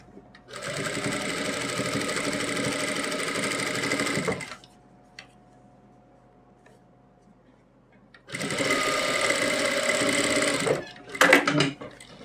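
A sewing machine stitches a second line of stitching over existing stitching to secure lace on an Afghani salwar. Two steady, loud motor runs of about four seconds each are separated by a quiet pause with faint handling noises.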